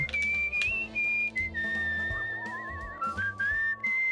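A game character in Where the Water Tastes Like Wine whistles a wandering tune, a clear, close, sustained melody with short pauses between phrases, heard alone over quiet background.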